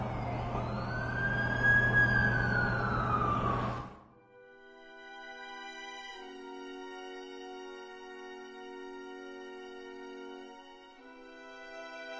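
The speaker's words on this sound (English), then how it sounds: "That's the ambulance I called." An ambulance siren wails loudly and up close for about four seconds, its pitch sweeping, then it cuts off abruptly and gives way to sustained tonal notes.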